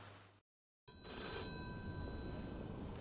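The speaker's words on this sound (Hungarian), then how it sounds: "És ismét telefoncsörgésre ébredünk." A telephone bell rings loudly in the Mafia II video game, a steady electronic ring starting after a brief silence and continuing alone without talk.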